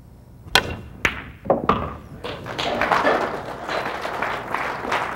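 Pool cue tips strike billiard balls at a women's nine-ball US Open semifinal, several sharp clicks in a row followed by a rising wash of crowd applause.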